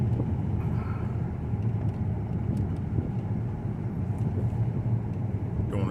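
A 2002 Mercedes CL500 rolling slowly through a residential neighborhood at night, a steady low engine and road rumble heard from inside the car, with no talk.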